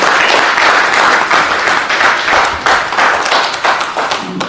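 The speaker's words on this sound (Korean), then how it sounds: "네, 한 박수 보내주시기 바랍니다." Audience applause at an award ceremony held at a National Assembly event, a loud, dense burst of many hands clapping that runs steadily through the whole stretch without letting up.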